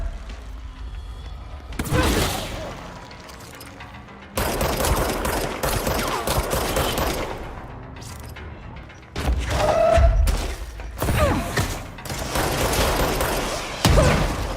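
Explosions from the video game Control, rocket blasts landing in loud booming bursts separated by stretches of rumbling combat noise, several heavy hits spread across the span.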